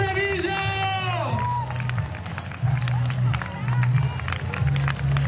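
A crowd in Treviso applauds a performing group from Macerata, clapping and cheering rising over steady music and busy crowd noise that runs through the whole stretch.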